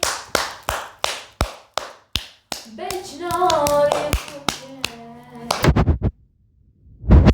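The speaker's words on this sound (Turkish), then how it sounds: "Bir alkış." A series of sharp, evenly spaced hand claps, loud and close, breaks off for a stretch of voice and then returns in a quick burst before a final lone clap.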